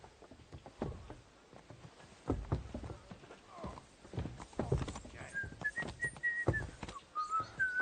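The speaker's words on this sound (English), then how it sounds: "Are you whistling just for fun?" A character in Kingdom Come Deliverance 2 whistles a wavering tune over the steady clip-clop of horse hooves nearby. The whistling is fairly quiet, and a horse whinnies faintly in the background.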